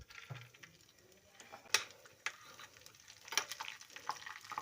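Dry fruits roast in a tablespoon of ghee in a pan for carrot halwa, a soft, low sizzle with faint stirring and a few sharp scraping clicks, quiet and close.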